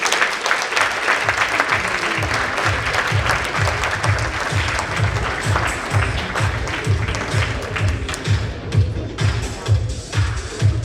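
An audience at an evening talk bursts into sustained, dense applause for a speaker being introduced, a steady loud clatter of many hands lasting around ten seconds with a faint murmur underneath.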